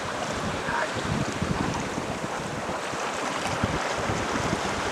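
A Sadler 32 sailboat pushes against the tide between Larne and Belfast Lough, giving a continuous broadband rush of wind and water with gusting microphone noise throughout and no voices.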